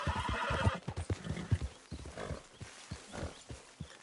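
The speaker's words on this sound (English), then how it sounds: "you're not allowed to have horses in the camp" A horse whinnies amid a steady clatter of hooves on hard ground in Red Dead Redemption 2, the clopping continuing close by after the neigh fades.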